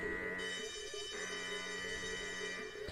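A building alarm in the video game Rootless: Memories of Green sounds as a continuous, faint electronic tone with a repeating warbling pattern that keeps cycling without a break.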